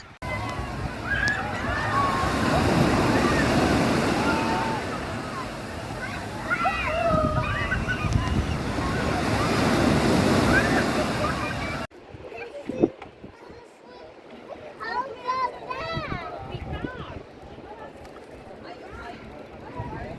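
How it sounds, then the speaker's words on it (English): Ocean waves break around a seaside pier at high tide, a broad rushing wash of surf with sloshing and splashing, while voices and children chatter in the background; the sound cuts abruptly to a quieter, sparser scene partway through. "There's lots of breakers, and I've included a short clip here where it shows you when the tide is in and how nice the breakers look."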